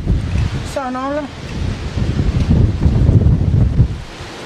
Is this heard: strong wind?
yes